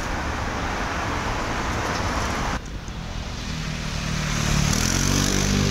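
Scooter engine in night street traffic in Rome, amid a constant road rumble, briefly quieting before a motor rises and passes close by near the end.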